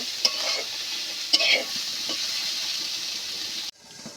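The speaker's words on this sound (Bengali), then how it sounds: "আলুটা এইভাবে আমি নেড়ে চেড়ে কিছুক্ষণ ভেজে নেব" Potatoes frying in a pan are stirred, giving a steady close sizzle broken by a few clacks of the spatula. The sizzle cuts off abruptly near the end, leaving a faint hiss.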